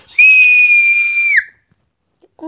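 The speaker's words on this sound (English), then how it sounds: "You always scream." A person lets out a loud, high sustained scream during a glow air hockey game, holding steady for over a second before cutting off sharply, followed by near silence and a brief faint sound at the end.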